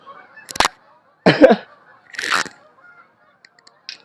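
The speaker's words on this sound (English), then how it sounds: "we see that geese are flying in the middle of this talk" Geese fly overhead during an outdoor talk, giving three or four loud, separate honks at uneven gaps, then a few fainter calls as they pass.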